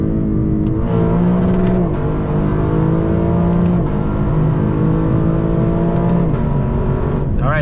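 Lexus LC 500 engine revving loudly through a downshift, sustained throaty roar with rising and falling pitch and throttle blips, heard close from inside the car with faint voice underneath.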